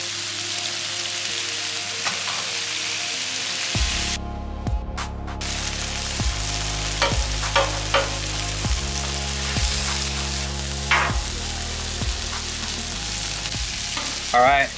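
Shrimp, steak and stir-fry vegetables sizzle loudly on a Blackstone griddle, a steady frying hiss with scattered pops and scraping clicks of a spatula, close and continuous.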